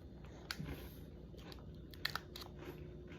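A peanut caramel snack from Jeju, shaped like Hallasan, is bitten and chewed close up, making a few quiet crunchy clicks and soft chewing sounds with no talking.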